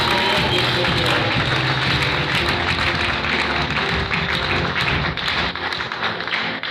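A church congregation at a seminar opening applauds and cheers loudly, a dense, sustained wall of clapping and voices that holds steady throughout and fades slightly toward the end.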